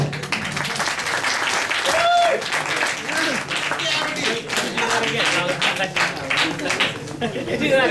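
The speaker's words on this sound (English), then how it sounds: "He wants a louder round of applause" An audience claps and applauds for a comedian at a live show, a dense wash of hands clapping mixed with cheering and voices talking throughout.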